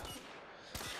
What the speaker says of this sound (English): Press R2 to fire your weapon.